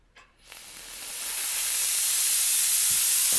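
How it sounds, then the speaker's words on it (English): An air-misting coolant system sprays a fine mist onto a metal lathe, a steady close hiss that starts after a brief pause, swells over the first second, then holds even and alone. "just a tiny little mist"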